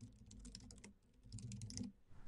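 Typing on a computer keyboard, a quick run of close, quiet key clicks with a short pause in the middle.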